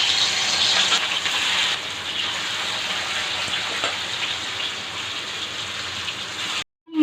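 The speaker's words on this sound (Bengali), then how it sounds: "একটা একটা করে মাছ ছেড়ে দেবো। তেল গরম হয়ে গেছে।" Fish pieces are slipped one at a time into hot oil for a mustard fish curry, producing a steady, loud hissing sizzle that cuts off abruptly near the end.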